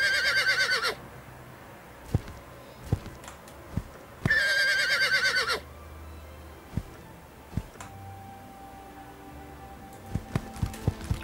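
Horse neighing in a horse-riding video game, two loud whinnying bursts separated by quieter stretches with scattered clicks and game effects, no speech.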